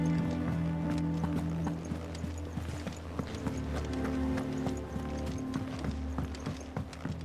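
Horse hooves clip-clop at a steady walking rhythm in Final Fantasy XVI, moderately close over a low droning game ambience, with no talk.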